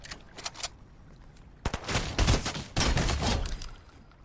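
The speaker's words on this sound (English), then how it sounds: "Fucking trying to shoot me" Video game gunfire crackles in short bursts, with a few scattered shots first and then two dense, loud volleys close up, rapid like automatic weapons.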